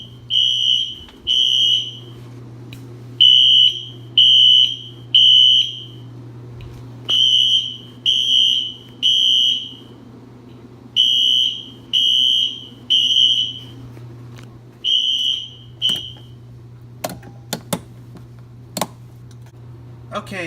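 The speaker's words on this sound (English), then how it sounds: "Next we're going to go ahead and run a fire drill." A fire alarm sounds during a fire drill system test in repeated bursts of high electronic beeps, groups of three with pauses, over a low hum and a few clicks.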